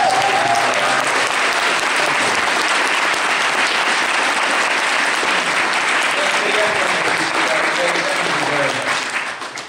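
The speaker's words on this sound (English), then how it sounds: "applause for all our production and staff." Convention audience at a panel with cartoon series directors applauds the production staff, loud sustained clapping with a few voices mixed in, tapering off at the end.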